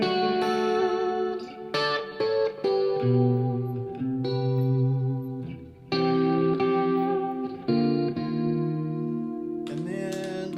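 An electric guitar on its single coil pickups plays bright chords and notes through chorus and effects. Strummed phrases ring out, are cut off, and start again in a loose rhythm, close and clear, with no talking.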